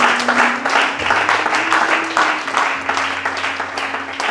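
A church congregation applauding the Lord, steady rhythmic clapping filling the room, loud and sustained, with a low sung or hummed tone underneath.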